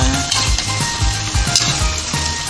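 Ingredients fry in a pan with a loud, steady close sizzle and crackle, punctuated by rhythmic low thumps of stirring, with no talking.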